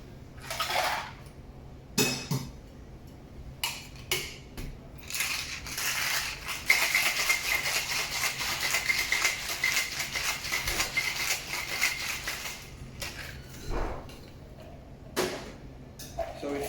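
A cocktail shaker filled with ice and a Long Island iced tea mix with lemon juice is shaken vigorously, ice rattling and crunching in a dense continuous burst, framed by short clinks and handling noises.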